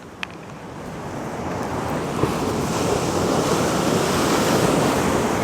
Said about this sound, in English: we've got some big waves coming in